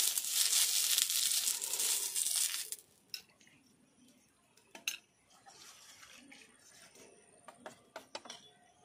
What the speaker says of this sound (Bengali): উনুনে একটা ফ্রাই প্যান বসিয়েছি, তেল ব্রাশ করে নিচ্ছি।